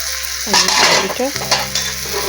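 Potato slices sizzle and crackle loudly as they fry in oil in a pan, with several scraping stirs breaking through the steady close hiss.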